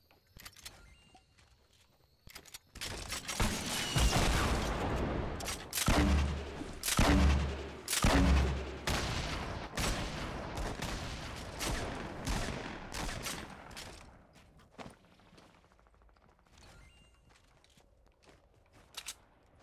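Gunfire crackles in Fortnite, a squad battle royale video game, with rapid bursts of shots and thumping impacts building to a dense, loud volley midway, then thinning into scattered pops and quieter movement noises.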